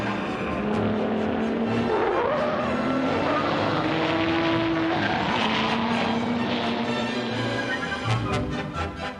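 A Lola P70 and a Nissan R381 race close together on a wet circuit, engines roaring and rising and falling in pitch as they pass, loud and continuous throughout.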